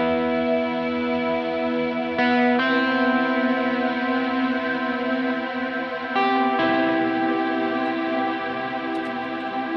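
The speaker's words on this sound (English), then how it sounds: "And with Valhalla, sounds like this." Electric guitar run through an amp sim and the Valhalla Supermassive reverb plugin, sustained chords blooming into a wide, washy echo tail with two fresh strums mid-phrase, loud and alone with no talking.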